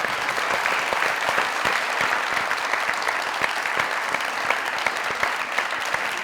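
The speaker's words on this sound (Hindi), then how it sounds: "जोरदार तालियां।" A studio audience bursts into loud, sustained applause, dense claps filling the whole stretch at a steady level with no break.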